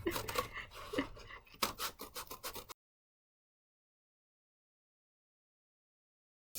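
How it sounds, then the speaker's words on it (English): Close, quiet snipping and rustling of child safety scissors cutting paper in quick bursts, then silence. "With my child safety scissors."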